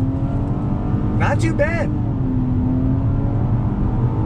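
A 2020 Nissan Maxima sedan accelerating on throttle through a left-hand bend, a steady loud in-cabin engine drone throughout, with someone briefly speaking over it.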